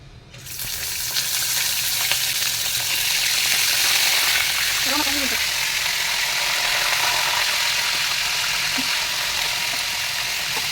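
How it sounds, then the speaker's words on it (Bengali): Finely chopped chicken pieces dropped into hot oil sizzle and fry steadily, a dense, loud crackling hiss that holds for the full length with occasional small pops. "ওই তেলের মাঝে আমি সব চিকেনগুলো ছেড়ে দিয়েছি, যেগুলো আমি একদম কুচি কুচি করে কেটে রেখেছিলাম।"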